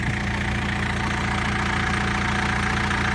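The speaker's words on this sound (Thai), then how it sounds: "เดี๋ยวมาดูรถอัดฟางครับ ใช้ยันมา" A Yanmar tractor engine idles beside a hay baler in a rice field, a continuous loud, close diesel rumble with a slight knocking texture, steady and unbroken, with no talk.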